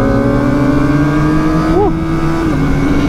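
Kawasaki ZX25R motorcycles at full throttle on a Sunday group ride, a loud steady high-revving engine drone with a rising pitch sweep near the end, close and continuous with no talk over it.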